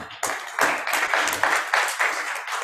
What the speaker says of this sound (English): So a round of applause for them as they begin the session.